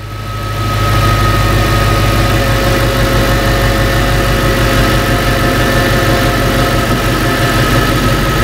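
A 2003 Ford Thunderbird engine running just after starting: the sound builds within the first second into a loud, steady idle rumble with a constant low hum and faint whine, close by and with no talking.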